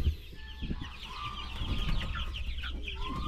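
Chickens cluck in two farm pens holding Araucanas or Easter Eggers and red hens, a steady, fairly quiet murmur of overlapping calls that runs unbroken throughout with no talking.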